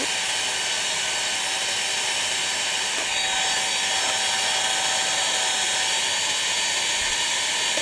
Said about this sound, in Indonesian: Ini kita blend hingga dia mengembang dan teksturnya kaku, sedikit kaku.